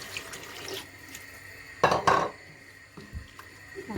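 Water poured from a cup into a cooking pot while making Somali-style baked pasta, a short burst of splashing and pouring in a kitchen, preceded and followed by quieter clinks and background clatter.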